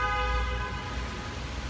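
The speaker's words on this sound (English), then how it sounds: "person was honking at nothing." A car horn sounds in one sustained toot at a moderate distance, with low traffic rumble beneath it and no voices.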